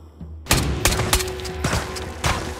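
Gunfire in the Ghosts of Tabor video game, with a rapid series of sharp, close shots spaced about half a second apart over a low background.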